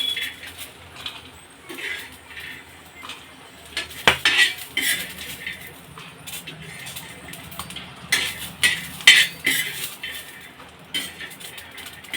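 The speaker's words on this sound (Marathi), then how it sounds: "हा जो मसाला आहे तो आपण या मिक्सरच्या छोट्या जारमध्ये काढून घेणार आहोत" Metal utensils scrape and clink against a pan and a small mixer jar as roasted masala for a brinjal kharda dish is transferred. Irregular close scraping and knocking bursts play with no talk.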